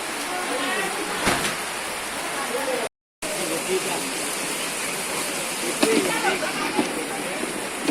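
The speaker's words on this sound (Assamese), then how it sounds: "এনেকুৱা বৰষুণ ৰাতিপুৱাৰ পৰা, মানে একদম বৰষুণ এৰাই নাই" Steady rain has kept falling since morning at a house in Assam, making a continuous broadband hiss close by with faint voices beneath and a brief cut midway.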